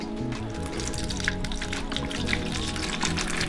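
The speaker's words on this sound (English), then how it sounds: "So I'm going to start pouring the water" Water pours gently from a fish bag into a bucket, a soft continuous splashing and trickling close by, fairly quiet and steady throughout.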